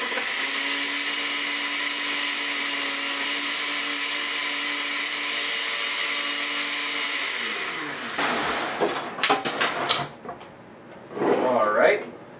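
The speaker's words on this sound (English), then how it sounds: "We're going to go ahead and turn it on," A kitchen blender whirs steadily for about eight seconds as it blends a chocolate milkshake, then winds down and stops, followed by clunks and handling noises.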